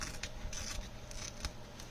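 Scissors snip paper while a floral collage book is being made, giving several quick, faint, evenly spaced cuts heard up close in a quiet room.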